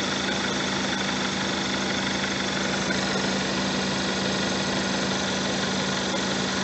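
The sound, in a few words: VW 1.4 TSI engine idling quietly after belt roller replacement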